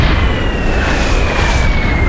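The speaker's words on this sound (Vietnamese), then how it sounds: "Tôi chỉ lờ mờ nghe thấy một tiếng nổ vang" A loud, dense explosion sound effect roars continuously with heavy low rumble and broadband noise, sustained without a break and with no voices.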